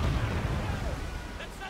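Ship cannons firing in Assassin's Creed Black Flag, a loud, dense low rumble of cannon blasts and battle noise filling the whole moment, with shouting voices breaking through near the end.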